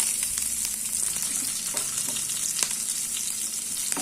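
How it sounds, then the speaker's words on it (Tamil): Large onions with curry leaves sauté in a pan for tiffin sambar made with ration toor dal, a steady close sizzle with occasional light stirring taps and no talking. "இப்போ இந்த வெங்காயம் கொஞ்சம் வதங்கட்டும்"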